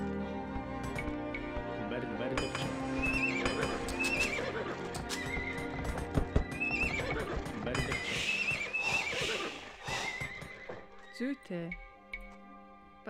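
Horses in the Age of Empires 2 video game neigh and whinny over clip-clopping hooves, mixed with busy battle and unit sounds throughout, ending in a couple of sharp whinnies.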